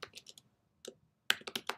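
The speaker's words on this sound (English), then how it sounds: "We can type it in." A name is typed on a computer keyboard in quick, light clusters of key clicks, separated by a short pause and heard close and faint.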